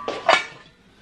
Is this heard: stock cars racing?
no